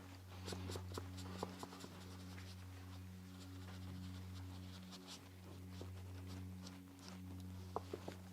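A dried, thirsty watercolor brush pulled across paper to lift color from a seaside painting, giving faint, scratchy strokes in short bursts over a steady low hum.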